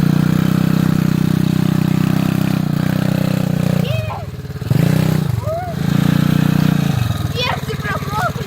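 A small Irbis TTR 110 pit bike engine drones steadily in the forest, rising and dipping as it is revved in uneven surges, close and loud, with people shouting over it.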